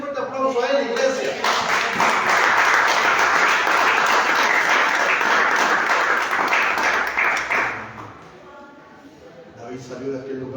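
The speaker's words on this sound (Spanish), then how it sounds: "Iglesia, denle un fuerte aplauso a él, iglesia." Church congregation breaks into loud, sustained applause lasting several seconds, then fades to quieter clapping and murmur near the end.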